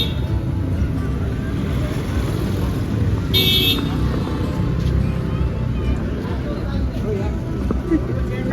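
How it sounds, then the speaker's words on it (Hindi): Road traffic in Manali: a steady rumble of engines and passing vehicles with a short horn toot partway through, while people talk over the continuous street noise. "हाँ इतना ट्रैफिक भी है."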